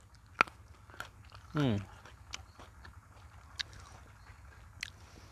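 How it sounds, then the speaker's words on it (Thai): Someone biting and chewing fresh jujube fruit at an evening fruit meal: quiet crunchy chews and sharp bites spread over a few seconds, close up, with a brief vocal sound in between. "ที่เรากินพุทราก่อนเนี่ยมันกินง่าย"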